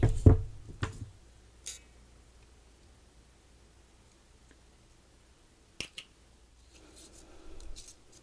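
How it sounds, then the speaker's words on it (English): Scissors snip through 3mm beading wire in a few crisp, separate cuts, close and quiet, with a soft rustle near the end. "Cut our 3mm beading wire."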